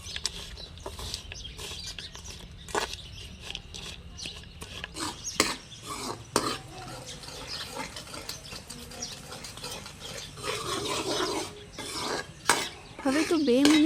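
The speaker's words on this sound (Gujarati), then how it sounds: "હવે તે જ કઢાઈમાં 1 કપ ગોળ એડ કરીશું અને 1 ચમચી પાણી નાખી लगातार चलाता रहशुं।" Jaggery and a spoonful of water stirred continuously in a kadai over a medium flame, with repeated scraping and rubbing strokes of a spoon against the metal, close and fairly quiet, with a few sharper knocks.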